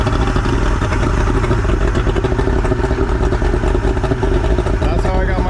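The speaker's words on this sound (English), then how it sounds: "that's how I got my motor running" A jump-started boat motor runs steadily and loud throughout, a continuous rough engine drone with clattering texture and no pauses.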